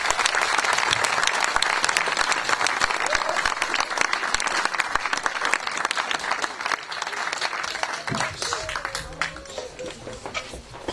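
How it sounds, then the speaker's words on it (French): A concert audience applauding, loud sustained clapping from a large crowd that tapers slightly toward the end. "Vous pouvez les applaudir encore très fort"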